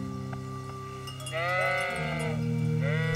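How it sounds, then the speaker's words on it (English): Sheep bleat in the video game Kingdom Come: Deliverance, a couple of drawn-out wavering calls over a steady droning game soundtrack. "I also have to kill some sheep."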